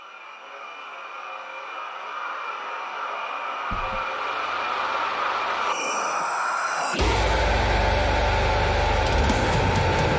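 Heavy deathcore song with orchestral parts: a dense, distorted wall of sound builds steadily, then a crushing low-end drop hits and stays loud to the end, with no voices talking.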